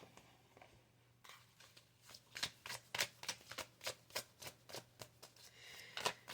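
A Secret of the Ancestors oracle card deck being shuffled by hand, a steady run of crisp riffling bursts with soft papery flutters between them, close and fairly quiet, with no voice present.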